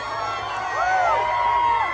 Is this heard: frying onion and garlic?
no